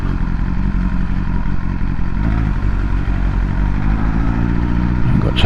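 A BMW S1000R motorcycle being ridden, its engine a steady close drone with road rumble and wind throughout, rising slightly in pitch near the end.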